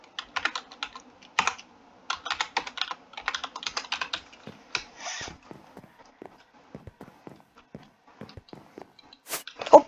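Rapid bursts of typing clatter on a computer keyboard nearby, clustered in quick runs with brief pauses, thinning toward isolated key taps and ending with a sharper click.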